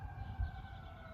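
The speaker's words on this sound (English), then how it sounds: "That's a fire truck." A fire truck siren sounds near a fire station, a faint, distant wail of steady sustained tones under low background rumble, heard only briefly.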